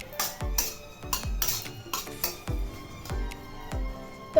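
A metal spoon stirs chicken curry masala in a pan, producing repeated scraping clinks in a steady rhythm of roughly two per second, close and fairly loud.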